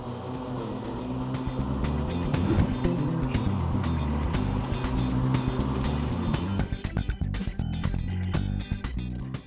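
A Ryobi tractor-style ride-on lawn mower running with its blades engaged, a steady close engine drone with whirring mechanical hum, fairly loud throughout and easing slightly near the end.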